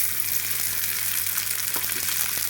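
Cooked rice and curry leaf powder being mixed in a hot pan gives a steady, moderate sizzle, with a few light scraping strokes toward the end.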